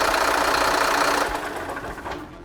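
Mercedes-Benz Axor rigid truck diesel engine idling nearby, a steady rough rumble with a noisy clatter that eases slightly partway through, with no talking.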